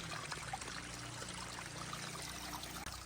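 Strong water flows from a spring-fed tank fed by two pipes, a steady close rushing and trickling that fills the whole moment without pause.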